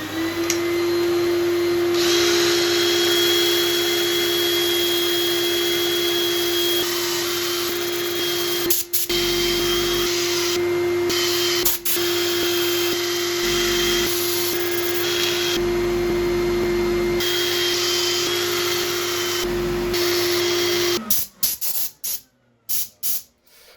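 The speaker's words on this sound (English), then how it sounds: "I'm going to set up for sanding" An air-powered sander whines and hisses steadily on a mallee wood burl for about twenty seconds with a few brief dips, then sputters off in uneven bursts.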